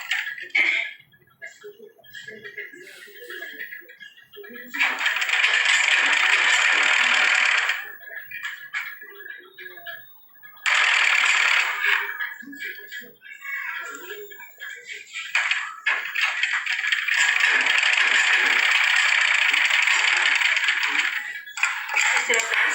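Sewing machine stitching a short run along the leg of a simple kurta, heard in two long steady bursts with a brief third, between quieter gaps; loud and close, with no talking.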